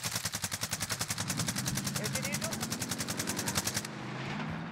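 Rapid automatic gunfire in Call of Duty: Warzone rattles in a fast, evenly spaced stream of shots for about four seconds, then breaks off into quieter game ambience.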